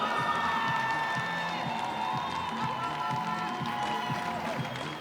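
A home crowd at an international dog show finals cheers and claps for a Netherlands dog in the ring, a steady broad roar of voices and applause with an announcer talking over it throughout.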